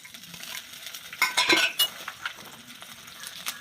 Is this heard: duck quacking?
no